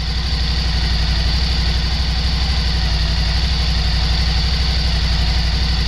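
A Suzuki V-Strom 1000 motorcycle engine idles on its own at about 1500 RPM, with a low, even rumble and fine regular pulsing throughout, close and constant.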